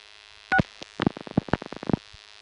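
A step-by-step telephone exchange director clicks and clatters during dialing, a quick irregular run of sharp mechanical snaps and relay ticks over a steady low hum on the line.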